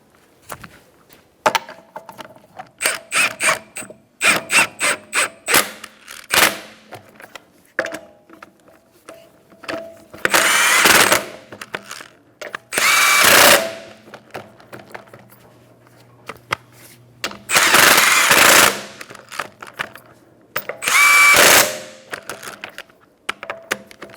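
A power tool tightens the wheel nuts on a Kia Soul in a star pattern. Loud bursts of rattling impact-wrench hammering alternate with clicking and ratcheting in between, close and without talk.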